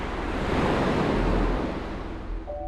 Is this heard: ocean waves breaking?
yes